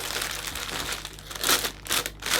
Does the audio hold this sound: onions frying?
no